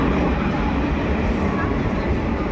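Shalimar Express train at a station, a steady dense rumble of rail noise that is loud and continuous throughout, with no clear break or change.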